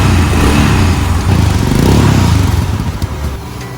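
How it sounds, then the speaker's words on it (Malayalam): A motorcycle engine, just started after an oil fill at its first service, runs loud and close with a steady rough burble that eases slightly toward the end. "അവരത്യാവശ്യം ഒരു ക്വാണ്ടിറ്റി ഓയിൽ ഫില്ല് ചെയ്തതിന് ശേഷം വണ്ടി ഒന്ന് സ്റ്റാർട്ട് ചെയ്ത് നോക്കും."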